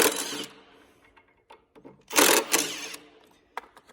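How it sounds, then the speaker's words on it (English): Impact wrench loosening bolts on the detachable head of a Warrior Equipment Tomahawk 1776 concrete grinder, heard as short loud bursts of rattling hammering, one near the start and two close together around the middle, with quieter clicks and clatter between. "Obviously I like a nice impact wrench to do it."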